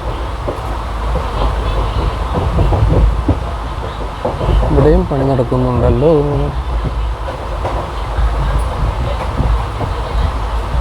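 Puducherry Express 16862 rolling on the rails as it slows, a loud, close, steady rumble with wheel clatter and brief squealing tones while a person talks over it.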